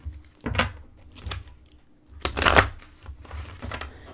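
Oracle cards riffled and shuffled by hand in two main bursts of papery flutter with softer handling clicks between, close and moderately quiet, with no talking.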